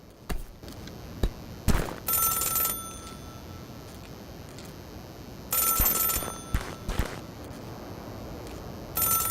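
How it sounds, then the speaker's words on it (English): A payphone rings in the video game Celeste, sounding in two short bursts of bright ringing separated by a quieter stretch, with no talking. "Are you calling me from a payphone?"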